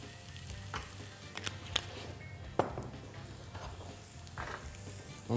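Toasted sesame seeds sizzle in olive oil in a hot steel pan with a soft, steady crackle, broken by a few sharp pops and a brief stirring clatter, close and fairly quiet.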